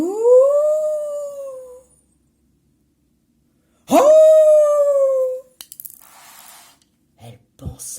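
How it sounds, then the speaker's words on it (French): A wolf howl in the mountains, voiced by a narrator reading a story aloud: two long rising-falling howls with a gap between, then a startled exclamation and faint rustling. "Puis ce fut un hurlement dans la montagne."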